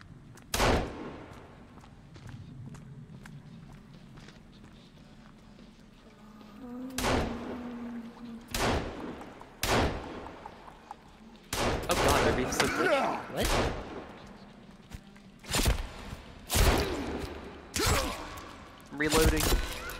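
Gunshots in the survival game Sons of the Forest: a string of sharp, loud single shots spaced irregularly, some in quick clusters, with a player talking quietly in between.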